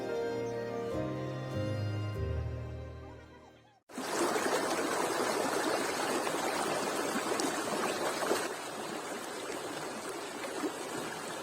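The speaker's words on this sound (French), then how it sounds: "C'est une source d'eau naturelle où les touristes peuvent se servir d'un verre ou de leurs mains pour boire cette eau." Natural spring water flows and trickles by the road to the Sahara in Morocco, a steady close-up stream that starts abruptly after a few seconds of music and continues alone.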